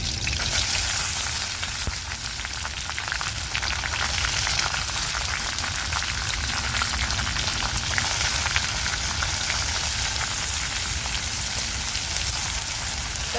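Finely chopped onion and green chillies frying in a pan for a wild mushroom dish, a loud, dense, continuous sizzle like heavy rain, steady throughout.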